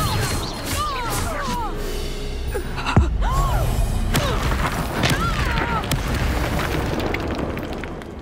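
A Bombarda blast spell from the Hogwarts Legacy video game goes off with a sharp boom near the middle, set amid a busy game soundscape of music, effects and voices.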